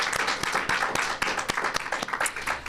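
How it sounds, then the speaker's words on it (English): An audience applauds honorees at a Women's History Month celebration, a dense and continuous wash of clapping from many hands. "let's get another round of applause for all of our honorees"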